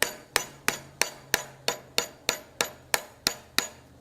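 Steady, evenly spaced hammer blows on forged steel at an anvil, about eleven ringing metallic strikes in four seconds, each with a short bright decay, close and loud with no talking.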